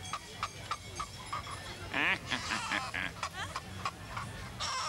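A novelty toy meant to imitate a hen gives out a string of squawking, cackling calls, uneven bursts that sound almost like laughter, heard fairly faint over a quiet background.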